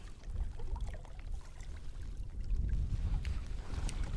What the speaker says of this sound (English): I'm going to turn my motor off.